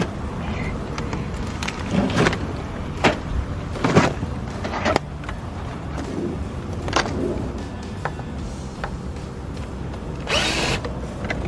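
A power drill drives screws outdoors while building a shade structure for chickens, with short whirring bursts spread across the clip between quieter pauses and faint background noise.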